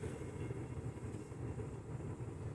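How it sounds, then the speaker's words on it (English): A train idling on railroad tracks at a crossing, identified as a Gulf & Ohio or Lancaster and Chester locomotive, gives a steady low rumble with a constant mechanical drone, fairly close and continuous. "Train is sitting at the tracks,"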